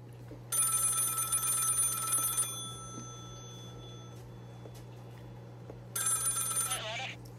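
A telephone rings in two loud bursts, a bright electronic trill that stops and then starts again after a pause, with a low steady hum underneath.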